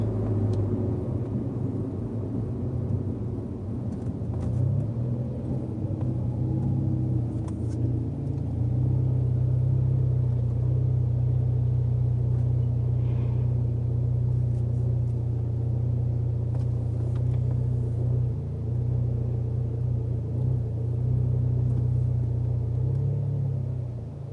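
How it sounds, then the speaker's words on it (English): A Saab with a muffler delete decelerates to a stop, its exhaust settling into a steady low rumble and thrum that holds close and even throughout, with no voices. "Now I'm slowing down to a stop."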